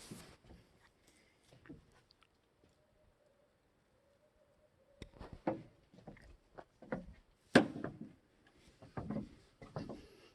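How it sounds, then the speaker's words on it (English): Footsteps on a wooden porch come as a string of irregular, fairly close thuds and creaks in the second half, after a quiet night stretch with a few faint sounds. "of me walking on the porch."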